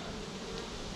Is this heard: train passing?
no